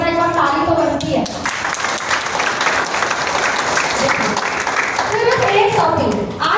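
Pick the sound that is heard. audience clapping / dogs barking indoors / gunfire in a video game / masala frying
audience clapping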